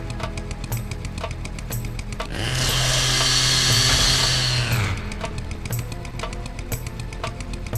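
A saw weapon in the video game Serious Sam 2 cuts with a loud grinding buzz that swells for about two and a half seconds over busy, rhythmic game sounds, which continue before and after it.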